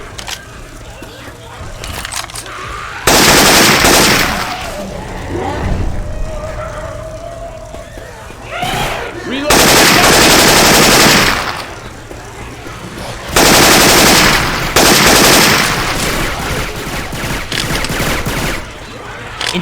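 Syphon Filter weapon sounds swapped into the Left 4 Dead 2 zombie shooter: loud, dense bursts of automatic gunfire come in three long volleys, with quieter game noise and voices between them.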